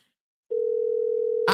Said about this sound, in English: Now I can hear the phone ringing.